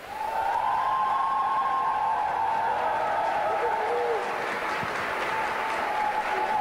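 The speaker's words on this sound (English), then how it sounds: "Please welcome them with a big round of applause." An audience at the HWPL World Peace Tour 2019 event in Romania applauds performers, with steady, dense clapping from a crowd that holds loud and unbroken throughout.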